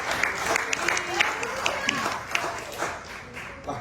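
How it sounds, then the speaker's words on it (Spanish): Church congregation clapping as an offering of applause to the Lord, a steady spread of hand claps with sharper individual claps standing out, moderately near and filling the room over a low murmur. "dale una ofrenda de palmas al Señor"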